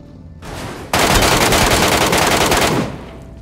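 Sustained automatic gunfire in a first-person battle royale video game, a loud, dense burst of rapid shots starting after a softer lead-in and lasting a couple of seconds before tapering off.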